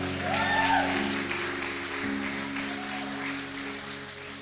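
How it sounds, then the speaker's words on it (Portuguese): Church conference audience at a women's gathering applauding, a moderate wash of clapping under sustained organ-like tones and music. "Quem pode aplaudir a Jesus pela vida dela?"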